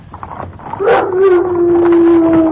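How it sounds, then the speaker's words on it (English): Dog howling as a radio drama sound effect for The Hound of the Baskervilles, a single long, rising then steady howl that swells and holds near the mic. "I'm sure I heard a howl."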